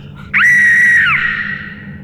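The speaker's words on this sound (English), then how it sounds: "That was an Aztec death whistle." An Aztec death whistle blown hard inside a state penitentiary wing gives one loud, piercing, scream-like shriek that holds steady for under a second, then bends downward and trails off into a fading echo.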